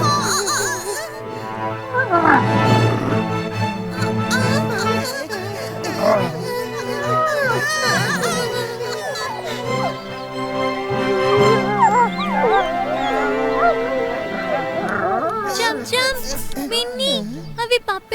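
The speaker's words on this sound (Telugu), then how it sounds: "అవి పప్పీస్ కాదు, అవి తోడేళ్ళు." Cartoon wolves howl and yelp in a Telugu children's cartoon, wavering, rising cries that continue under and between children's voices talking throughout.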